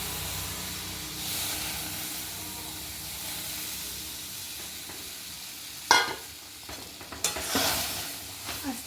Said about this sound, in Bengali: আস্তে আস্তে নাড়বো।